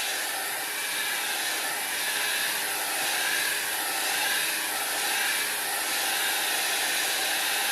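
Heat tool blowing over a wet alcohol ink painting, a steady airy whoosh with a faint hum, moderately close, rising and falling slightly as the tool moves.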